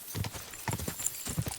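Horse hooves clip-clop in the Kingdom Come: Deliverance 2 video game, a few quick clusters of hoofbeats riding through woods, fairly close and clear with no talk over them.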